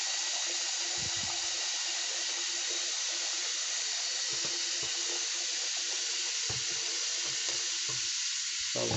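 Hot soapy water runs and splashes steadily over a motorcycle helmet being rinsed clean, a continuous hiss of flowing water with a few low knocks from handling.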